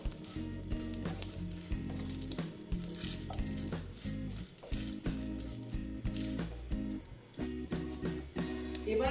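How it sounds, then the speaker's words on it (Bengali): Dried red chilies frying in a pan for a long bean dish, a close crackling sizzle with intermittent stirring and a low steady hum underneath. "দিয়ে এটা একটু ভেজে নিচ্ছি"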